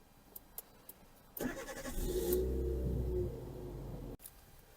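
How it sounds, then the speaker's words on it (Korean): A Chevrolet Spark's engine cranks and catches after a battery replacement, then settles into a steady, close, fairly loud idle rumble for about three seconds before cutting off abruptly. There is no talking. "이제 배터리 교체했으니까 시동을 한번 걸어 보겠습니다"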